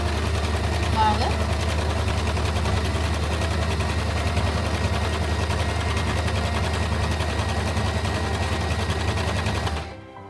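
An Usha sewing machine runs steadily at close range, stitching a double stitch with a dense, continuous mechanical whir that holds throughout before cutting off abruptly at the end.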